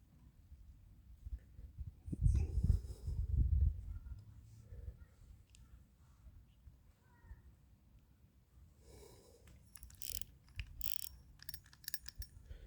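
Mechanical whirring and clicking from an SNK 6000 carp spinning reel with baitrunner being turned by hand, with a louder burst of ratcheting early on and softer gear ticks and rattles afterwards, close up with no talk.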